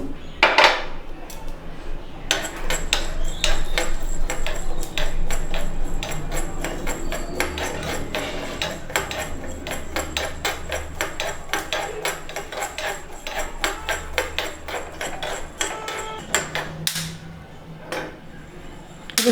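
Peppercorns crackling and popping as they dry-roast in a pan over low flame while making homemade puliyogare spice powder, a dense run of sharp close clicks and ticks with metallic pan knocks, steady for most of the stretch.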